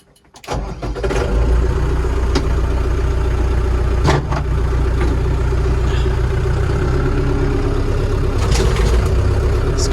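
A Lovol 504 tractor driving a potato haulm mower rumbles to life after a brief quiet moment, then runs at a loud, steady pace close by, with a few sharp knocks and clatters.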